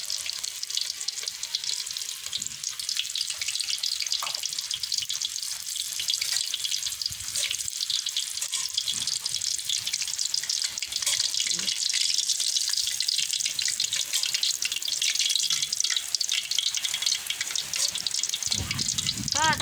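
Battered shrimp frying in hot oil give a steady, bright crackling sizzle that carries evenly throughout, with a brief low rumble near the end and no clear talk over it.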